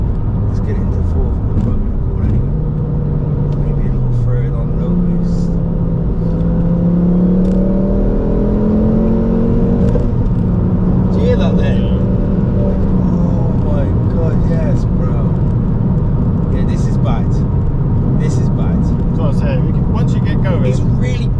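A Ford Focus ST engine revs hard and climbs steadily in pitch as it accelerates through fourth gear, loud and close from inside the cabin, with occasional voices over it.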